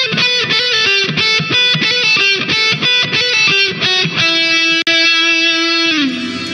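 Samsung ZamStar smart guitar with an automatic effect matched to the song, giving a distorted, processed tone. A fast run of loud, close, choppy notes ends on one sustained held note, and nobody speaks.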